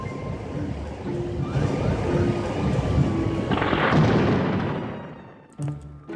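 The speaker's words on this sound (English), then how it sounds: "Did you mean the perfect storm, Lexi?" Thunderstorm sound effect with a steady, loud wash of heavy rain and deep rolling thunder that swells midway, ending in a sharp crackle.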